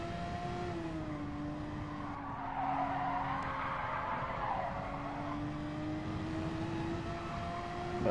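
A Corvette's tires squeal as they lose traction during a Gran Turismo Sport race, a sustained tonal screech over a steady engine drone that swells briefly mid-way and holds, with no talking.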